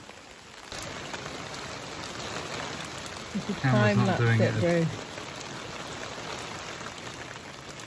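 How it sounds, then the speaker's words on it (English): Steady rain falls outdoors on a bramble-clearing job site, a continuous hiss throughout; someone speaks briefly near the middle over the patter. "It's raining."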